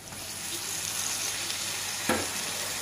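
Steady sizzling of tomatoes frying in a pan, a constant crackle with one short clink of a utensil near the end.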